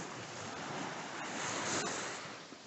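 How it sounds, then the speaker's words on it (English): Ocean waves wash up a hurricane-eroded beach in a continuous broadband surge that swells slightly midway, with wind buffeting the microphone and no voices. "Oh, the wave got me."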